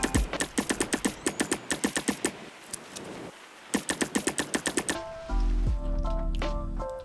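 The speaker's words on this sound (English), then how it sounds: "I also find the noise of the paint gun sped up hilarious" Sped-up paint gun spraying in the Satisfactory video game, a rapid rattling train of sharp, evenly spaced bursts that pauses briefly, resumes, then gives way to a louder droning electronic tone.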